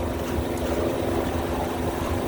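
A sailboat's inboard engine runs steadily at about 2700 rpm, 75% throttle, while motor-sailing with the jib up at around 6 knots, giving a constant low drone and hum mixed with water noise, no talking.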